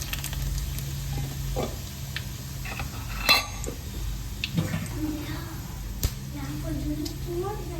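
Mustard seeds, asafoetida and dried red chillies sizzle steadily in hot oil for okra buttermilk curry, with a few sharp pops and utensil clicks, under a speaking voice.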